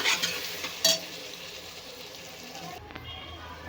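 Coriander powder and turmeric sauté in a pan for soybean pulao, with a few loud stirring scrapes early over a soft sizzle that fades out near the end.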